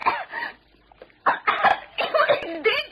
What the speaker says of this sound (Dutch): Niet praten, hoest het eruit.